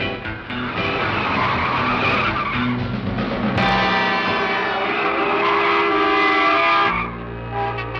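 A 1960s getaway car cutting onto a freeway on-ramp, with loud tire skidding and squeal over a revving engine, a sharp shift partway through, then settling into a lower steady hum.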